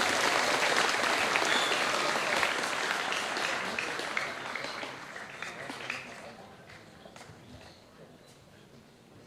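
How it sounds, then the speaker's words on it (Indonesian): An audience at a school Isra Mi'raj commemoration applauds a speaker, with full clapping at the start that gradually fades to scattered claps. "beri tepuk tangan sekali lagi untuk Ahmad Rifai"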